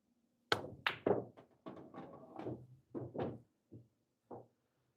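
Billiard cue driving a hard follow power shot on a pool table: a loud crisp crack of cue on ball, then a string of knocks and thuds as balls collide and roll, finishing with scattered lighter taps.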